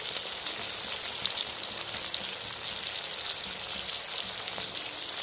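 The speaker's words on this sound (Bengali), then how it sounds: "এই সময় গ্যাসের ফ্লেমটা আমি লো টু মিডিয়ামে রেখে মশলাগুলোকে কষিয়ে নেব" Spices with turmeric and chili powder fry in a pan over a low to medium gas flame, giving a loud, steady hissing sizzle that runs on without a break and with no talk.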